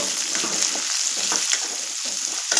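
Onions and green chilies sizzle and fry in a hot pan, a steady close crackle with occasional louder pops and stirring scrapes, no talking.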